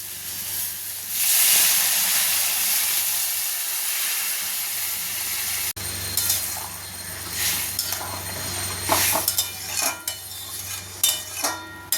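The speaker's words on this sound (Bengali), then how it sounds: "সবজিগুলো কষানো হয়ে গেছে এর মধ্যে দিয়ে দেবো এটা গরম জল" Hot water poured into a pan of sautéed vegetables for a thin fish curry sets off a loud, steady hiss of steam lasting several seconds, followed by scattered metallic clinks and scrapes of a utensil against the pan.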